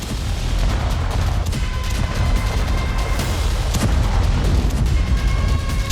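Airstrike bombing in Gaza produces heavy, rumbling explosions and booms over a dense, continuous roar of blasts, loud and sustained without a break.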